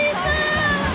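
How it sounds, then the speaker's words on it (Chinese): A warm waterfall at the Galahe wild hot spring stream pours with a close, steady rushing roar of falling water, with a voice faintly present beneath the flow. "那个瀑布是热的，瀑布是热的"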